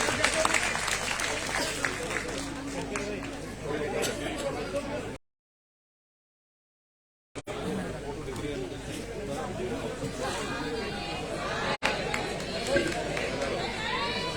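Loud applause rings out at a bhoomi pujan ceremony for the Shivdhara Ashram, Amravati, with crowd chatter mixed in; the clapping breaks off for a silent gap, then resumes.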